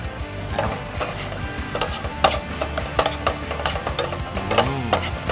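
Southern Thai curry paste sizzles as it is stir-fried in a pan, with scraping spatula strokes and clinks over a steady frying hiss, close and busy throughout.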